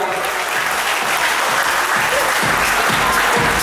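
Audience applause for a youth band at a music contest results announcement, a full steady roar of clapping throughout the short stretch, loud and close.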